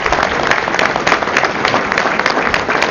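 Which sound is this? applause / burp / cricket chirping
applause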